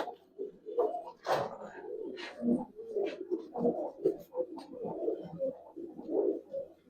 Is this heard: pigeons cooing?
yes